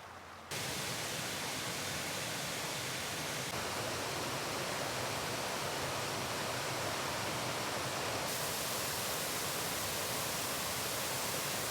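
Waterfall along a wheelchair-accessible forest trail in British Columbia, a steady dense broadband roar of falling water that fills the whole clip at an even level after a brief quiet start.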